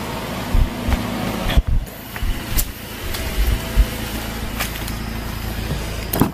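Inside a moving car, engine and road noise hum steadily beneath intermittent knocks and bumps, with no talking.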